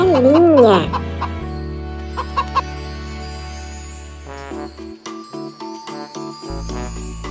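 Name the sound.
chicken clucking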